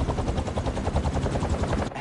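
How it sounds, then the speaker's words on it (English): Helicopter blades in the Spider-Man 2 video game, a loud, close, steady rhythmic thumping of rotor pulses over a dense engine rumble, with no voices. "a helicopter's blades"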